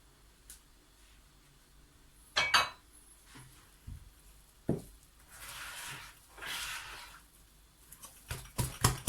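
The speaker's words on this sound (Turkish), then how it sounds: "Elime alıp güzelce çırpacağım ekmeğimi" Whole-grain sourdough dough with chia seeds is whisked by hand, producing irregular wet squelches, slaps and soft knocks that come in uneven bursts and grow busier toward the end.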